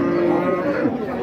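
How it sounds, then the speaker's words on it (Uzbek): A local breed cow moos at a busy livestock market, one long sustained low call held close and loud through the whole moment, with market noise faintly beneath. "O'zimiz jaydari sigirlardan do'stlar."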